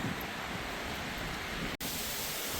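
Strong wind roars steadily across an exposed Appalachian Trail mountain ridge, a loud continuous rush buffeting the microphone with a brief dropout near the end.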